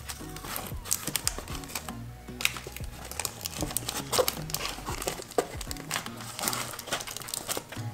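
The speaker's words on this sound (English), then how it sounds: "let's get this box like taped up like for sure good" Packing tape is pulled and pressed along the inside seams of a cardboard box, giving close crinkling, crackling and tapping sounds that continue irregularly throughout, with no speech.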